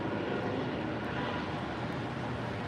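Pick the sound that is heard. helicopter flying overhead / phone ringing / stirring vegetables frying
helicopter flying overhead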